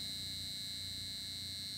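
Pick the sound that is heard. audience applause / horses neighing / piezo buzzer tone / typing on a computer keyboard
piezo buzzer tone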